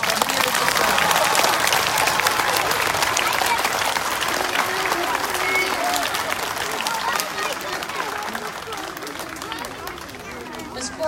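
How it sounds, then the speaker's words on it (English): Elementary school children applaud a teacher at a morning flag-raising ceremony, a long, dense round of clapping with some chatter and cheering mixed in, fading slightly toward the end. "Boys and girls, give her a huge round of applause"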